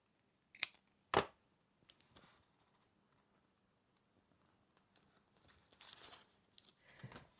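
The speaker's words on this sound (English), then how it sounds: "I'm going to trim this up a little bit." Scissors trim small scraps of magazine paper, giving a couple of crisp, close snips early on followed by soft, quiet paper rustling and light handling noises, with no one speaking.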